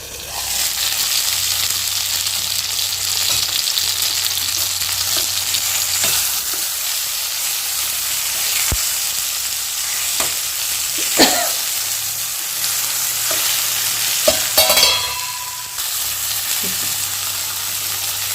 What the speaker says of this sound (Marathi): टोमॅटो टाकल्या टाकल्या टोपण झाका नाही तर तेल सगळं उरतं